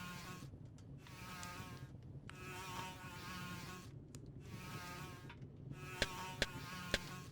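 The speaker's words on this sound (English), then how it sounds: "swarming with flies. The stench of decay must attract them." Flies swarm in The Whispered World video game, buzzing in several close, wavering bursts separated by short gaps, with a few sharp clicks near the end.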